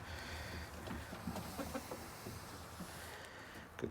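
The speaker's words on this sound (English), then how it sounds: "I don't know what kind of chicken you are" Chickens in a coop give soft, scattered clucks and murmurs against a steady background hum, close and low in level, with no talk.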